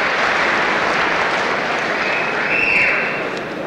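Applause and crowd noise fill a boxing hall between rounds, a sustained loud wash of clapping and cheers that eases slightly at the end.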